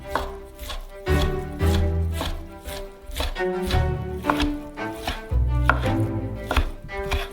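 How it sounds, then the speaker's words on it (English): A knife slices leftover meat into strips on a cutting board, with quick repeated strokes knocking on the board in a steady rhythm over quiet background music. "we'll slice them into strips"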